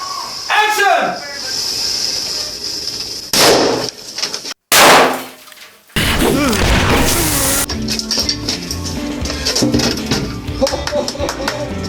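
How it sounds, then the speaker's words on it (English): A firecracker goes off behind dirty protective glass on a film set, giving a couple of sharp loud bursts amid hissing, clanging and clattering, with people talking nearby. "now I'm putting the firecracker in it"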